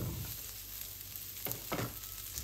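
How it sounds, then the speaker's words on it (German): Gnocchi with onion and garlic sizzle steadily in a hot pan, a soft continuous frying hiss with a couple of brief louder stirring scrapes near the end. "Kurz einmal anbrutzeln."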